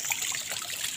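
Water flows steadily in a swimming pool, a continuous close trickling and gurgling with no voices.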